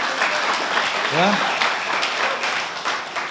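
A church congregation claps together during an online Sunday worship service, a dense, steady wash of applause that fills the whole moment, with a single short voiced word heard briefly over it.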